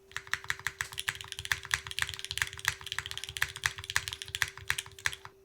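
Rapid, steady typing on a Zephyr Lab Z1 mechanical keyboard fitted with Cherry MX2A switches, close and clear, each keystroke a crisp clack with a deeper thock beneath and a faint constant hum behind.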